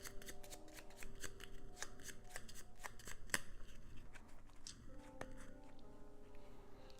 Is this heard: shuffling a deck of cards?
yes